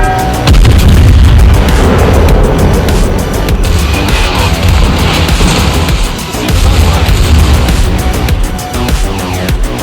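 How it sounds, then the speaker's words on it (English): Secondary guns on the Bismarck, a tier 8 German battleship, fire at a destroyer in a naval battle game, producing a dense, loud barrage of rapid, overlapping booms with almost no pause. "let's get these secondaries firing onto that destroyer to help our submarine out"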